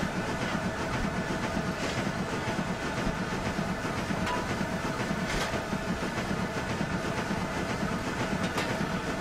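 Steam locomotive in Train Simulator 2016 multiplayer, a Peppercorn engine on the Weardale and Teesdale line, climbing a grade while accelerating; steady rumbling rail noise with clickety-clack of wagons runs continuously throughout.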